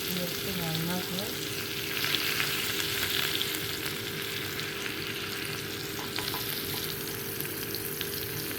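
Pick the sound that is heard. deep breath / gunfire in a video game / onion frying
onion frying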